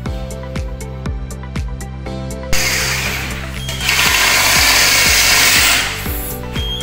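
A rechargeable cordless screwdriver drives screws while a magnetic track light is installed. A few short motor bursts come first, then a longer steady whirring run, close and fairly loud.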